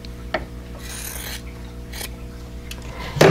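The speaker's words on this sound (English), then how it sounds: "I'm going to trim this corner off, leaving a quarter inch seam allowance." A quilt block corner is trimmed for a vintage Carolina Lily pattern, with a few short rasping cuts and rubs close by and a sharper snip at the very end, no talking.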